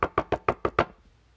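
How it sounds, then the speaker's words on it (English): Six sharp knocks on a front door, evenly spaced in a quick steady rhythm, close and clear, then quiet. "He knocked on the front door."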